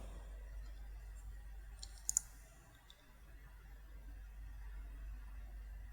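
A computer mouse clicks twice in quick succession, sharp and close, against a faint steady hum in a quiet room while pausing a Hirender S3 media-server timeline.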